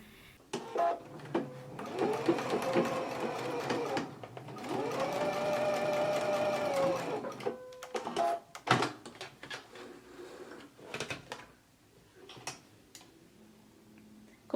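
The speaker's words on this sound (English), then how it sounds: "So let's go ahead and stitch the corners of our pockets now." Domestic sewing machine stitching the corners of skirt pockets, two sustained whirring runs of stitching followed by scattered clicks and handling taps, fairly quiet and close.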